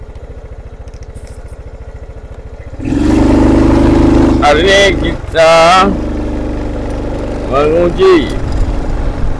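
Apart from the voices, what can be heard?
motorcycle engine while riding at high speed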